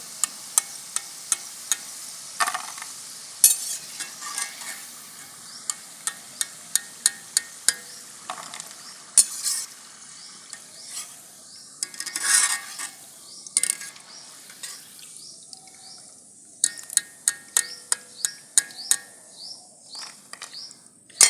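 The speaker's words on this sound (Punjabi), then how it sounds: "ਲਓ ਆਪਣੀਆਂ ਪਕੌੜੀਆਂ ਚੰਗੀ ਤਰ੍ਹਾਂ ਰੜ ਗਈਆਂ ਰੰਗ ਬਰਾਊਨ ਹੋ ਗਿਆ" Jaggery pakoras fry in oil in a kadai as a ladle stirs them, giving steady metallic taps and scrapes over a soft, continuous sizzle, with no one talking.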